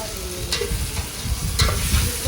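Pulao ingredients frying in a pan over high flame, a steady close sizzle with scraping stirring strokes and a few sharp clicks of the utensil, no talk.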